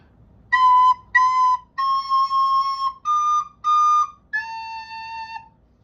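A recorder plays a short tune of six clear, breathy notes, some short and some held, with small gaps between them.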